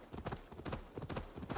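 Horse hooves in the video game Assassin's Creed Valhalla, a steady rhythmic clip-clop of a ridden horse at a brisk gait, close and clear with no talk over it.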